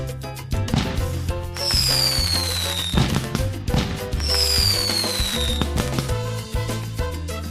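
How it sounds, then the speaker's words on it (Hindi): Cartoon fireworks whistle upward and burst twice in quick succession over a lively, steady backing of music. "आसमान में ये लोग पटाखे फोड़ने लगते हैं"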